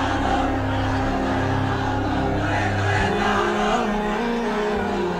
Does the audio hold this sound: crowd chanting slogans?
yes